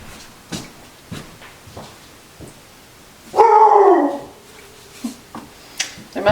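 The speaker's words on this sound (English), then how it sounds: "There must be something outside because the dog is losing his mind." A pet dog indoors in a home kitchen barks and whimpers in short separate bursts, then lets out one long, loud, rising howl-like bark before going back to scattered yips.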